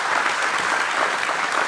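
A conference audience at an IPO celebration bursts into brief, dense applause, with steady, loud clapping filling the whole moment.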